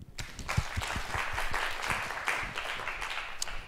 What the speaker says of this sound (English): So let's welcome Roger with big applause.